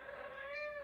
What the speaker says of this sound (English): and you can hear my cat